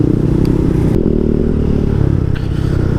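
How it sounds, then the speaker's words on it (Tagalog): Motorcycle engine running through an exhaust pipe with no silencer, a loud, raw, continuous rumbling drone with throbbing pulses and slight revving, very close. "Yung ginagawa ko dun sa tambutso kung walang silencer, kung naririnig nyo guys"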